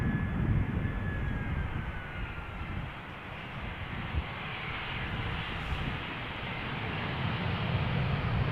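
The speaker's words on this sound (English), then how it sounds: "EasyJet A319, arrival from Copenhagen" EasyJet Airbus A319 jet arriving at Schiphol Airport from Copenhagen, a broad, continuous engine roar at steady loudness throughout, with no voices.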